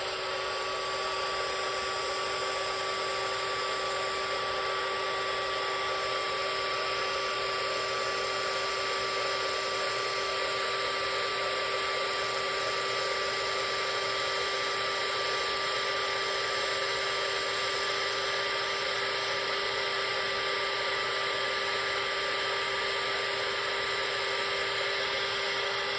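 A heat tool blows a steady, unbroken whirring drone for a long stretch while it heats embossing on a handmade card. Nothing else interrupts the sound.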